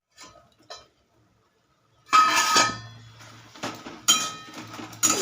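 Metal spoon clinks and scrapes against a cooking pot as spinach is stirred, a few sharp clattering bursts in quick succession after a brief quiet start, fairly close and clear with no talking.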